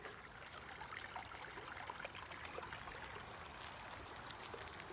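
A small creek flows steadily in an outdoor setting, a continuous soft, broadband trickle and babble with no voices.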